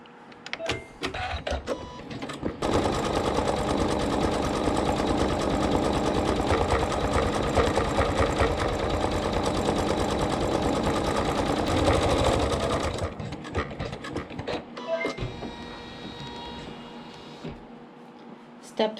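A sewing machine stitches a dense satin stitch along the edge of an appliqué, its fast even whirring running loud and continuous for about ten seconds, with brief starts and stops around it.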